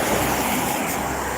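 Continuous broadband rush of water running through a village overflow, steady and fairly loud with a faint breezy hiss and no talk.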